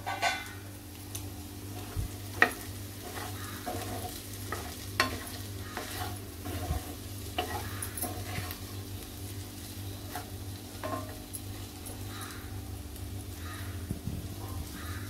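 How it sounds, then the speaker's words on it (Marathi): A spatula stirs a potato and fenugreek (methi batata) stir-fry in a pan over low gas, giving a steady scraping and sizzling with irregular soft knocks against the pan, at moderate volume throughout, with no voices. "मिक्स करून घेऊया भाजी"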